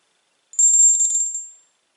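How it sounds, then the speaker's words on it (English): A small guardian bell of the kind carried by motorcyclists gives a single bright, high ring that shimmers for about a second and fades out, close and clear with no other sound. "This is called a guardian bell, or a gremlin bell."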